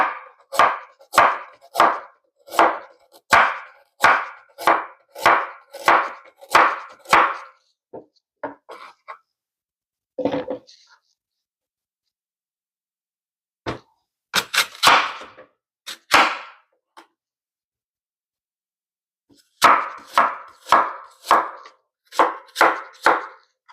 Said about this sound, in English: So I'm going to do a little bit of chopping.